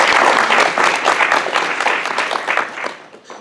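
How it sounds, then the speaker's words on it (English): An audience claps for a few seconds in a dense, even burst of applause at a candidate forum, and the clapping tapers off toward the end. "Give them a round of applause too"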